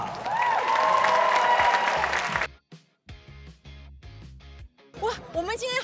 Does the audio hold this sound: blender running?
no